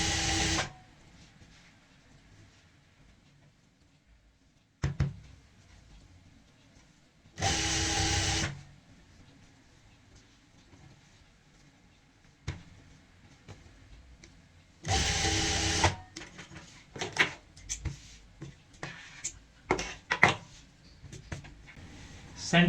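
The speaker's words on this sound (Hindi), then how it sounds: "नेकलाइन को और सेंटर पॉइंट की एक सिलाई लगा लेंगे।" Sewing machine stitching the center point of a neckline over piping fabric, several short loud bursts of whirring separated by quiet pauses, with handling clicks and rustling between runs.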